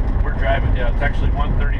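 A 1979 VW camper van drives along with a steady low engine rumble and road noise filling the background, while people talk over it throughout.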